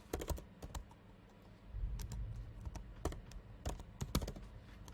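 A computer keyboard is typed on at close range while a domain name is entered, quiet clusters of crisp key taps arriving in short uneven bursts with brief gaps, no voices.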